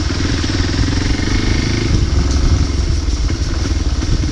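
A motorcycle rides over a slippery surface near Kavadikere Lake in Yellapur, its engine chugging steadily and loudly close by, with faint clattering underneath.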